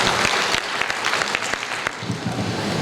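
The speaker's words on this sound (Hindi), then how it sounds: "एक बार जोरदार तालियों से स्वागत करें।" A crowd at a community federation gathering in Dantewada district claps loudly to welcome a guest to the stage, with dense, steady applause that runs without a break for about three seconds.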